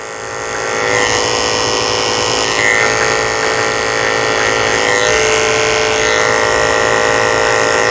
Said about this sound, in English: Using my 30 blade just to shave out the corners of her eyes.